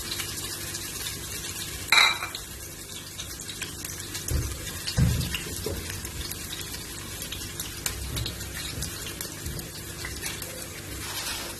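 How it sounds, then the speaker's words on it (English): Onions fry in oil in a pot for a meatless pilau, a soft continuous sizzle with occasional louder clanks and scrapes from a stirring utensil. "When you finally have your oil ready, you can add in onions. Keep stirring a little bit."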